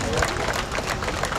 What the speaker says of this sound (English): just give yourselves a round of applause for everybody coming out